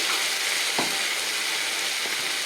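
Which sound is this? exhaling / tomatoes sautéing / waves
tomatoes sautéing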